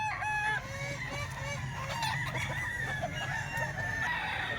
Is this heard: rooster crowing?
yes